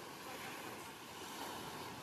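Sea waves washing onto a sandy beach, a faint steady wash of surf with wind noise and no voices.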